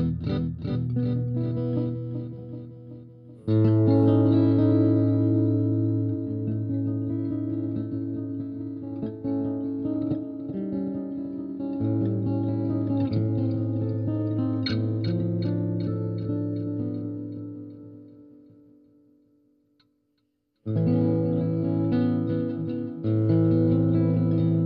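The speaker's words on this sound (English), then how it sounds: "And then I think this one has some, might have some delays." An acoustic guitar played through a Positive Grid Spark amp with a delay effect, strummed chords ringing with trailing echoes and shimmer, fading out to near silence before a fresh strum returns at the end.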